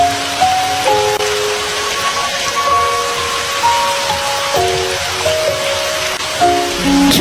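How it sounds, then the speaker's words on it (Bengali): Cartoon rain falls steadily as a dense, even hiss for several seconds, with soft music tones playing underneath. "সেই কখন থেকে বৃষ্টি শুরু হয়েছে এখনো তো থামার নামই নাই"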